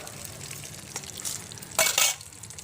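Ivy gourd and green chilies frying in oil, a soft continuous sizzle with light stirring, swelling into a louder crackling burst near the end.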